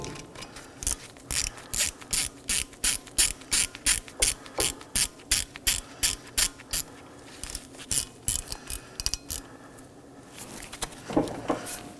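A ratchet tightens a T30 Torx screw holding a brake rotor on a Chevrolet Equinox hub, giving a quick run of close, crisp clicks that slows and stops near the end, followed by a light clunk.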